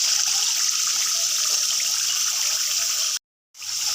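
Boiled water from gatte, Rajasthani gram-flour dumplings, is ladled into a simmering gravy, giving a steady, close watery pour and splash that runs unbroken before a brief gap and then resumes.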